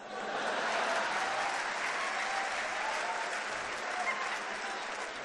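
A Hindi poetry recital audience applauds steadily throughout, a dense even wash of clapping with no gaps.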